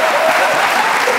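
Studio audience applause on a Pakistani comedy talk show, a dense, steady burst of clapping that fills the whole moment with no voices over it.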